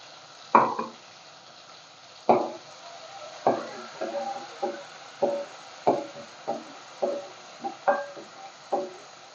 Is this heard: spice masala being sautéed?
yes